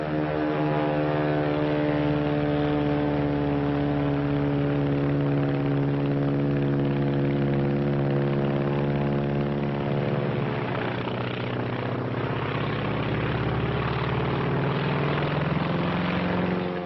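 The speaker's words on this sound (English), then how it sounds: "That's a Zero, the real McCoy." A Japanese Zero fighter plane's piston engine drones loudly and steadily, its propeller tone holding then sliding in pitch as the plane climbs, constant throughout.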